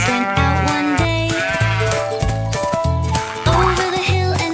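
Sheep bleat in a sung nursery rhyme, a loud, repeated series of short wavering bleats in a bouncy rhythm alongside bright tinkling music, with no talk.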